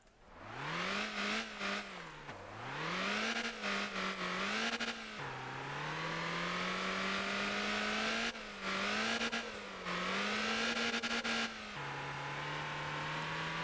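A truck engine in the video game Motor Town, revving up and shifting through gears repeatedly with rising whines and drops in pitch, loud and continuous with no talk.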